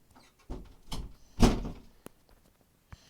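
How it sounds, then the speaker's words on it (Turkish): A door swings shut in a dim Halloween haunted-house setting, with a few dull wooden knocks and shuffles building to one heavier thump, then a couple of faint clicks and taps. "kapı kapandı da"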